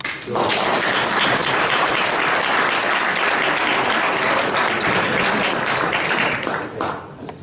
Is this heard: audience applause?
yes